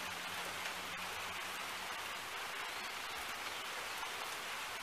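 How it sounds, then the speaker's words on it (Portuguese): Rain beginning to fall outdoors, a soft, even hiss of light drops across the whole stretch, faint and continuous with no voices. "E começou a chover."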